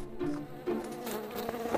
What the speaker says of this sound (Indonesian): Oh, lalat. Kamu kembali.